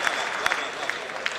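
Crowd applause fills a hall at a Hindi poetry gathering, a dense steady patter of clapping with a few sharper claps standing out, sustained throughout.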